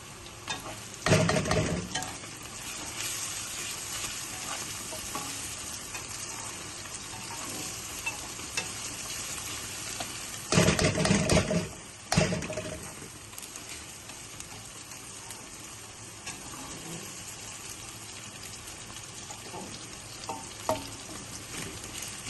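Onions frying in a pan with garlic-ginger paste for chicken karahi: a steady close sizzle, with two louder bursts of stirring and spattering early and around the middle, and no talk.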